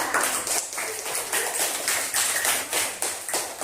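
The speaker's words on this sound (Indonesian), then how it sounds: "Tepuk tangan untuk kelompok 4" Classroom applause as students clap together for a group after its presentation, a dense, steady patter of many hands at close range carrying on without a break.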